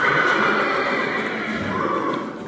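A horse whinnies loudly and close by, a long wavering neigh over a noisy background with a hint of hooves.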